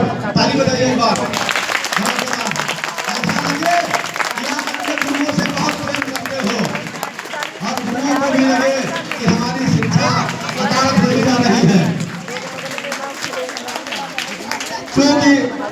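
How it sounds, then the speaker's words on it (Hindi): Students and guests at a school Republic Day literary program clap for their teachers, a scattered patter of hands mixed with chanting voices and crowd hubbub that swells and dips throughout. "अपने गुरुओं के नाम पर ताली बजाइए एक बार"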